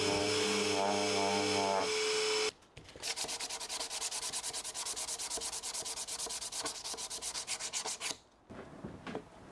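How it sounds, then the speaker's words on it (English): An electric sander works over a wooden toilet roll holder, giving a steady rasping buzz with rhythmic pulsing strokes, loud and close, and it cuts out briefly near the end. "So I'm going to start with the electric sander"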